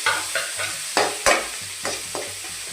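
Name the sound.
sautéing brinjal in a pan for prawn curry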